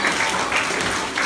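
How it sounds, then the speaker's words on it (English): An audience breaks into a short burst of dense, steady applause at a college event in Colombo, filling the room with broad clapping noise and no voices standing out. "Round of applause. Very nice."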